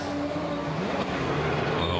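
A rallycross race car accelerates hard out of a corner, a steady loud engine roar with a rising pitch, heard under crowd and ambient track noise.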